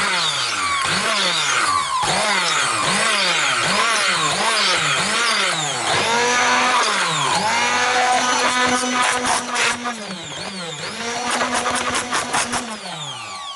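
A fruit blender runs loud and close, its motor repeatedly surging and dropping in pitch in rhythmic pulses as it chops fruit, then steadies into a continuous whirring drone with rattling.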